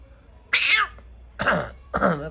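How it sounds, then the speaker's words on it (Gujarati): Three short meows from a small kitten, each a brief high-pitched cry separated by quiet pauses, close by. "બિલાડીનું બચ્ચું ખાવા માટે આવ્યું છે."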